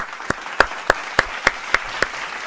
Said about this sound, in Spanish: un aplauso a los ajedrecistas de Marco y Presley